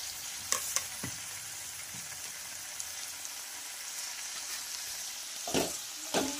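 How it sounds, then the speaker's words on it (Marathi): Fried vegetables and paneer being stirred in a pan, a steady soft sizzle with a few louder scraping and clinking stirs near the start and end, close and without talk. "आणि छान या भाज्या मिक्स करून घ्यायच्या आहेत"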